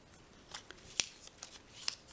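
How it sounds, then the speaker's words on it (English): Quiet paper trimming on a handmade corner pop-up card, a few short crisp snips and rustles spaced irregularly, with two sharper cuts standing out against a faint background hiss. "Trimming away all this excess."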